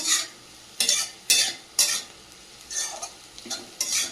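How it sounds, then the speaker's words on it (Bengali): Vegetables frying with cashews and raisins, stirred in a pan: a constant sizzle broken by repeated loud scraping strokes of a spoon at an uneven rhythm, close and clear. "দিয়ে দেবো কাজু আর কিশমিশ দিয়ে ভালো করে ভেজে নেবো"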